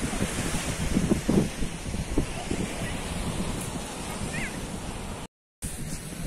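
Sea waves and wind roll in steadily along Someshwar beach under overcast, rain-laden skies, a loud continuous wash of surf and gusting air that briefly drops out near the end.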